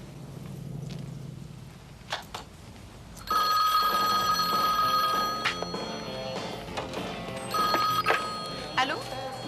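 A telephone bell rings in a 1987 French-dubbed film scene, a loud, steady electric ring starting a few seconds in, pausing, then resuming, with footsteps and movement around it.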